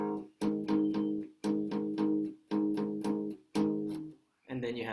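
An electric guitar plays the repeating chord pattern of a song in short, evenly spaced bursts that ring out and stop, with a brief different figure at the end.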